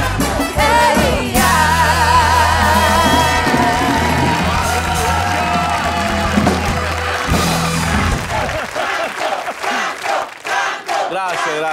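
Studio audience at a stand-up comedy taping roaring with cheers, whoops and applause for comedian Franco Escamilla, a loud, sustained crowd swell that thins out and breaks into scattered claps near the end.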